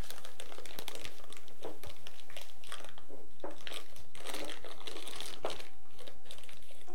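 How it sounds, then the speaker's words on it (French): A plastic piping bag is crinkled and opened inside a glass while preparing icing for gingerbread, giving steady close rustling and crackling with no voice. "je vous conseille de vous aider d'un gant verre dans lequel vous allez pouvoir ouvrir votre poche à douille"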